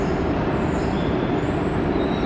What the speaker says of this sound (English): this is our first train